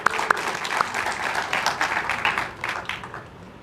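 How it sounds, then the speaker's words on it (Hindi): Audience at a political speech breaks into a short burst of clapping, a quick rattle of many hands that swells then tapers off within a few seconds. "बहुत बढ़िया, ताली बजाइए।"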